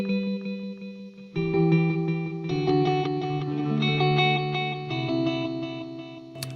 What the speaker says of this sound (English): this third delay is the Echo Park from line 6, and it is a stereo ping pong delay